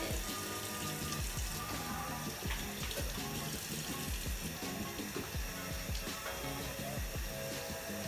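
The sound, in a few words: water running from tap while washing hands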